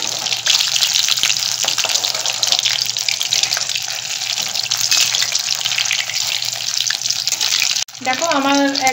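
Paneer pakoras frying in hot oil give a loud, steady, close sizzle that runs on without a break, then cuts off abruptly near the end into a different scene.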